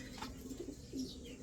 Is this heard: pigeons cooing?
yes